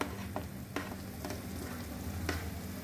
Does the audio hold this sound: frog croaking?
no